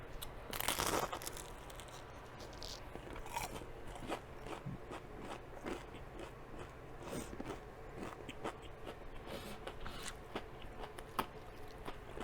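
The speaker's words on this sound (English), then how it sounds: "I really hope that crunch came through because that was crunchy." Crunching bites into a hot giant spring roll, with a loud first crunch followed by repeated crisp crackles and chewing, close up with no talking.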